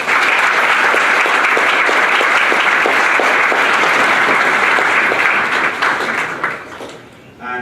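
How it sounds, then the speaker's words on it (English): Sustained loud applause from a conference audience at a Hindu youth session, dense steady clapping for about six seconds before fading out, with some voices mixed in. "I think that deserves another round of applause"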